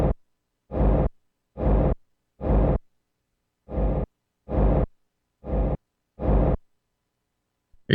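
Saturated techno kick drum rumble: eight loud, boomy, crunchy hits in an uneven pulse, separated by short silences, with no voices.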